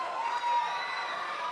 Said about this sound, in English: Crowd showing their appreciation here for Cross.